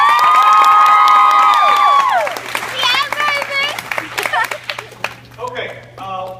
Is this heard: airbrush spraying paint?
no